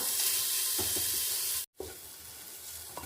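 Chopped onions sizzle in hot coconut oil in a pan, a steady bright frying hiss broken by a brief stir, with an abrupt short gap midway before the sizzling resumes.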